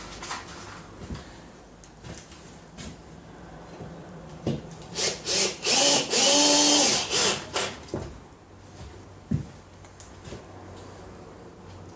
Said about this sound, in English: Put some screws in the back of this one.